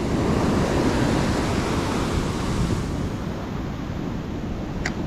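Ocean surf washing up a sloped shore, a steady broadband roar of waves with wind noise on the microphone, loud and continuous throughout with no talking.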